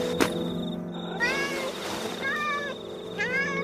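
A cat meows several times outside a house at night, near a back door or wall: a few clear, drawn-out meows with short pauses between them, moderately loud against a quiet background.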